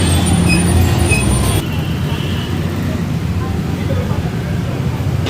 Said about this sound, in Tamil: டிராஃபிக் சற்று அதிகமாக தாங்க இருக்குது.